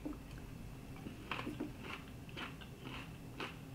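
Quiet, close crunching from biting and chewing a fresh StarrRacha Pumpkin pepper, with several distinct crisp crunches spaced roughly half a second apart over low background hiss.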